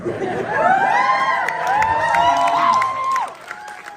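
A large audience shouts and cheers at a film trailer event, a dense, loud, sustained roar of many voices with high whoops rising over it for several seconds.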